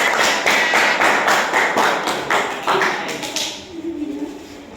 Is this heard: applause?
yes